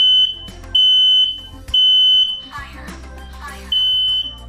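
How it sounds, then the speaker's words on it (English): Several connected smoke alarms set off by oven smoke while dinner cooks, sounding as loud, piercing electronic beeps in four repeated bursts, with brief voices and kitchen noise in the gaps between. "When I opened the oven, a bit of smoke came out and activated the fire alarm."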